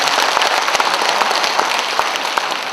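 A crowd at a founding ceremony and rally for relocating the Gwangju military airport applauds continuously, a dense, steady wash of many hands clapping from a large audience, loud and sustained throughout.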